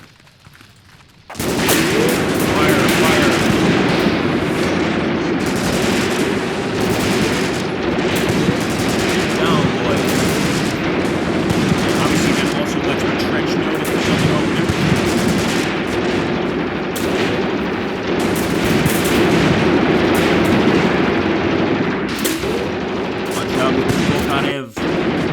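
Anti-tank rifle and Maxim machine gun fire in Graviteam Tactics: Mius Front trench fighting make a dense, sustained battle din of rapid automatic bursts and heavy shots lasting over twenty seconds, with someone talking over it.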